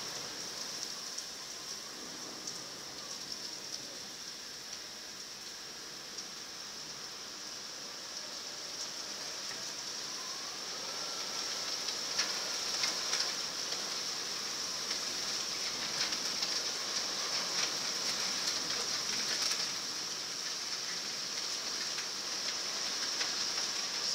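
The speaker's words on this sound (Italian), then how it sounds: "Se sentite casino sono chicchi di grandine," Hailstones pelting down during a thunderstorm outside closed windows, a steady dense hiss of impacts that thickens partway through, heard from indoors at moderate distance.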